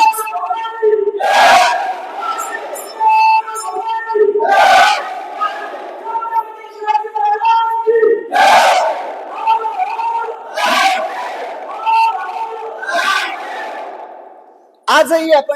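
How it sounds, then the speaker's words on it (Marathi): A crowd at Raigad fort bellows call-and-response slogans hailing Chhatrapati Shivaji Maharaj, loud echoing bursts repeating in rhythmic waves with brief pauses between shouts. "साडेतीनशे वर्षानंतर छत्रपती शिवाजी महाराजांच्या घोषणेचा जयघोष आजही आपण ऐकतोय"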